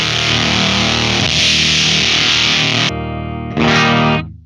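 Electric guitar played through a JAX 8TR Fuzz Wah pedal at maximum volume, a thick, buzzing fuzz tone that holds steady and loud for about three seconds, drops out briefly, then returns with a second sustained chord before cutting off.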